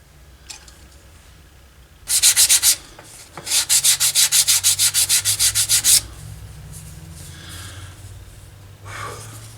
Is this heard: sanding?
yes